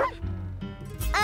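Cartoon dogs in a children's animated show bark and yip in quick bright bursts, several short barks close together over a musical background.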